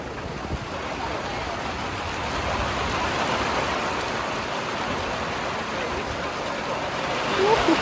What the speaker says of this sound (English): Woohoo, it's raining!